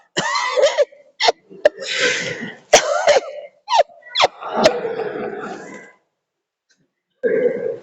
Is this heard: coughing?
yes